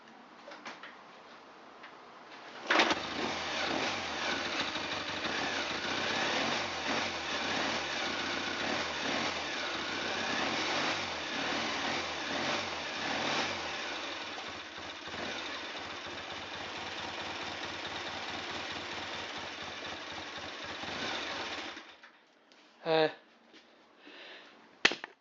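Triumph T100 Daytona motorcycle engine running steadily for about twenty seconds while charging its dynamo, a busy ticking mechanical drone that starts abruptly, then cuts off, leaving a few brief knocks.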